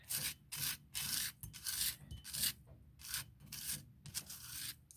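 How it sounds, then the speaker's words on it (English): A mortar and pestle grinds ingredients for a ritual in repeated rough, rasping strokes, about a dozen bursts in quick rhythm, close and moderately loud with no talking. "I like using this mortal pestle because it grinds up so well"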